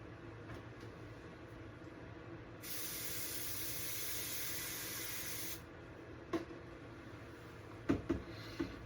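A steady, close hiss of airbrush spray applying crimson paint to a fishing lure's gills runs for about three seconds amid quiet room noise, followed by a few faint clicks and taps.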